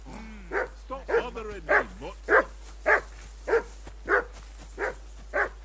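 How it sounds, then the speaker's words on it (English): A dog in the video game Kingdom Come: Deliverance II barks repeatedly in a steady rhythm, about ten evenly spaced barks, fairly close, with some whimpering yips at the start. "I assume you can hear that damn dog of yours barking"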